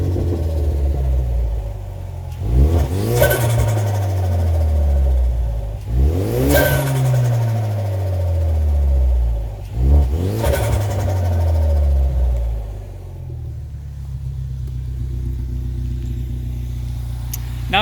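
A Ford EcoBoost engine revs up three times, each rise dropping off into a turbo flutter rather than a blow-off valve hiss, with a rumbling idle between bursts and a lower steady drone near the end.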